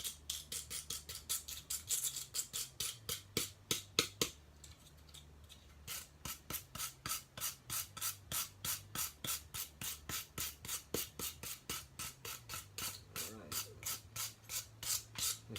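Steady rhythmic back-and-forth brushing scrubs over burnt, freshly carved wood, dozens of quick, close, dry raspy strokes in an even cadence with a brief pause and a change of pace partway through.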